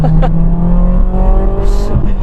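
A Ford Fiesta ST150 is driven hard, its engine note rising and falling close up with a brief tyre squeal-like burst near the end, no talk over it.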